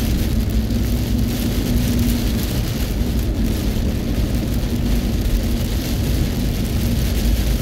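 Loud, steady downpour of heavy rain in Abu Dhabi, a dense continuous roar drumming on surfaces with no letup.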